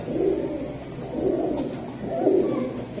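Pigeons coo up close, three soft, low, throaty rolling calls spaced about a second apart, with a faint background hiss.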